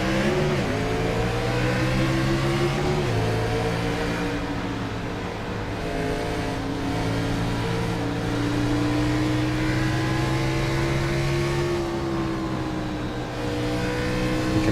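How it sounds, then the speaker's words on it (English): Powerful Xfinity class race cars at Bristol accelerating and lifting off, heard from in the car as a loud, sustained engine howl that rises, dips with a gear change, then swells and fades back through the revs. "Listen to the acceleration and the deceleration of these very powerful Xfinity class cars."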